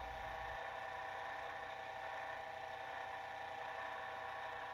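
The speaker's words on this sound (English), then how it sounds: "I use a disc sander to smooth out and give the piece a nice, even edge" A disc sander motor hums in a steady, faint whine while smoothing leather edges, with constant mid-pitched tones and no talking.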